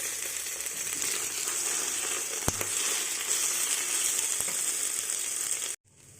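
Ginger garlic paste fries with onions for a moringa flower biryani, a steady bright sizzle with a sharp clack near the middle, then it cuts off abruptly near the end.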